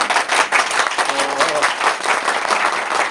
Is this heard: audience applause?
yes